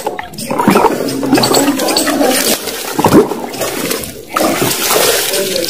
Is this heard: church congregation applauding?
no